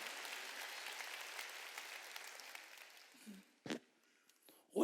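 A church congregation claps during a Wednesday worship sermon, a broad wash of applause that fades out over several seconds, followed by a few isolated sounds near the end.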